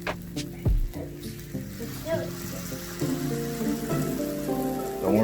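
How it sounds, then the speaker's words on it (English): Pancake batter poured onto a hot griddle gives a soft, steady sizzle that builds slightly over the few seconds, close up and moderately quiet, with a voice talking over it. "you're gonna pour it on the griddle"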